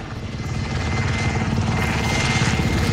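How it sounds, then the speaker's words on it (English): Helicopter piloted in the video game Warzone, its rotor chopping loud and close with a steady whirring engine drone that grows slightly stronger, no voices over it. "Now I'm driving the heli."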